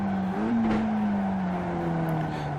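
Race car in iRacing braking hard into a corner at Summit Point, engine tone dropping as the tires squeal in a sustained loud screech.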